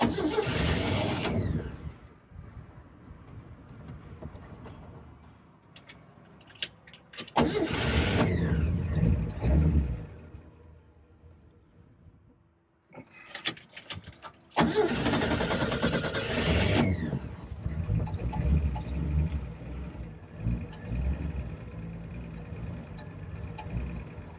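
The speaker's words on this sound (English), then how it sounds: "Okay, what we do now is start cranking." A 1949 Willys Overland Jeepster with a Chevy six engine cranks in loud, repeated bursts separated by pauses, then catches and settles into a rough, fluttering idle.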